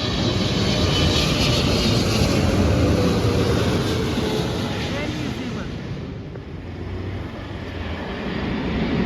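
Jet aircraft passing over a metro open day at Sydenham, a loud continuous roar that swells and then fades slightly as it moves away.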